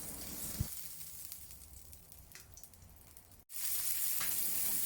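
Chicken chop, a Malaysian grilled chicken steak, sizzling steadily in a grill pan, a broad close hiss that dips briefly mid-way and comes back louder, with no talking.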